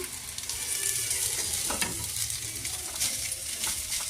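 Garlic egg rice with boiled eggs being stirred and fried in a pan, a steady broadband sizzle with scraping spatula strokes running throughout, close and fairly loud, with no talking.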